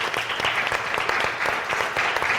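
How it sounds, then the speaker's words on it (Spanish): Festival audience applauding steadily, a dense wash of clapping that holds at an even, fairly loud level throughout with no one speaking. "un aplauso a los 3"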